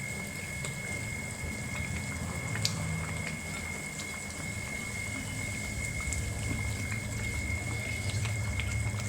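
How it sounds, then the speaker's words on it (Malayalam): Water is poured into a pot of sambar cooking with dal, a faint, steady liquid trickle that stays low and unbroken for several seconds, with no voices. "നമുക്കിതിനകത്ത് കുറച്ച് വെള്ളം ഒഴിച്ചു കൊടുക്കാം"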